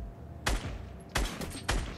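Scoped rifle shots in the Fortnite video game: three loud, sharp cracks, each with a short decaying tail, spaced roughly half a second apart.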